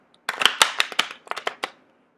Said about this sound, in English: I'm going to go ahead and do a master shuffle with the Ink Witch deck.